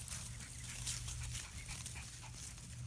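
Three-week-old British Labrador puppies make soft, steady whimpering and grunting noises close by for a few seconds, with a low continuous hum underneath.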